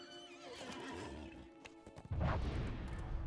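A war steed horse in the game Lord of the Rings Online neighs and whinnies over steady game music, with hoof clatter and a louder burst of movement near the end.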